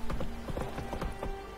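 Horse hooves clip-clop in a steady, brisk rhythm in The Witcher video game, a continuous run of even hoofbeats heard alone at close range.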